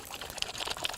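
A small amount of water is poured onto soapberries, which are used for washing clothes; a brief, soft, close trickle and splash lasting about a second.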